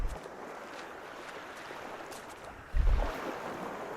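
Sea waves in the game The Last Door, a steady wash of broadband surf noise with one heavier, louder surge near the end, no one speaking.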